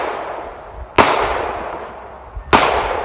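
A rifle fires at a steel target 600 yards away: two loud, sharp cracks about a second and a half apart, each followed by a rolling outdoor decay over light background noise.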